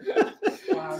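Three rough, bursting coughs in close succession, near and fairly loud, with a strained, throaty edge from choking on a piece of bacon.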